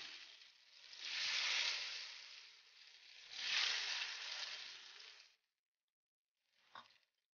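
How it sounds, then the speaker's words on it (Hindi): Battered pizza bread balls deep-frying in oil heated over a medium flame, giving a loud, close, surging sizzle that swells twice and then cuts off, followed by a brief faint rustle after a short silence. "अब हम पिज़्ज़ा ब्रेड बॉल को बैटर में डिप करके फ्राई करेंगे।"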